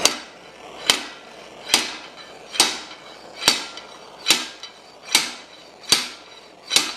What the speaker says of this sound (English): I got the slide hammer ready to go, and I'm going to just start tapping it up